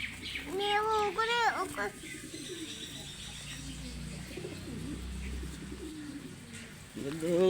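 A pigeon being hand-fed coos low and steadily through the middle of the clip, with people talking nearby, including higher voices at the start and end.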